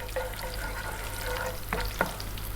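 Cumin seeds and curry leaves sizzling in hot oil over medium-high heat, a dense, close crackle with two short stirring scrapes near the end and no talking.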